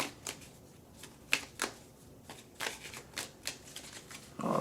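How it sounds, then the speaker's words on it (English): Moon Magic mini oracle cards being shuffled by hand, a string of soft, papery riffling bursts at an uneven rhythm, close and fairly quiet with no voices. "shuffle, and throw."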